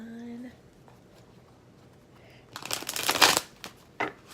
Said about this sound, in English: I'm going to go ahead and shuffle the deck to get some clarification.